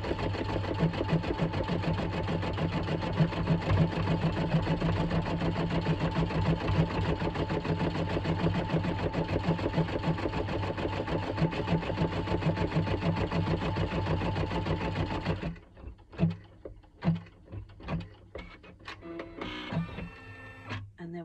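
An embroidery machine stitches a Halloween design with a fast, even mechanical chatter that runs steadily and close, then stops, leaving scattered clicks and handling noises.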